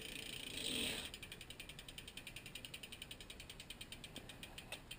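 A bicycle wheel spins freely after a hydraulic disc brake adjustment, giving a soft, evenly spaced ticking of the freewheel, close and quiet with no talking.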